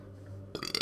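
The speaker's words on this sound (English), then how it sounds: "That was a big burp." A single loud burp, deep and throaty, cuts in after a quiet low hum and rumbles on in a few rough pulses before ending.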